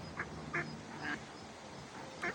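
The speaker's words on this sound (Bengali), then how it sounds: "সব হাঁসের ডাক পারতেছি, হাঁস ধরে নিবা।" Ducks at a duck park quacking in short separate calls, about four quacks spaced unevenly over a low background hum, fairly faint and at middling distance.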